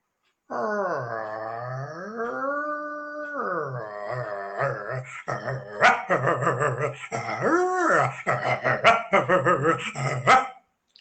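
Two dogs, one large and one small, squabbling over a piece of flatbread: a long drawn-out howl and whine gives way to rapid, close barks, yips and whimpers, loud and without any human voice.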